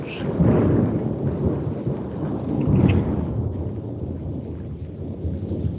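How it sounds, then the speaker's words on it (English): Thunder rolls through a storm after a lightning flash, a deep, loud rumble swelling twice over steady rain, then easing into a softer patter; no one speaks. "I saw the flash of the lightning out of the corner of my mind eye, so I knew that the thunder was going to happen again."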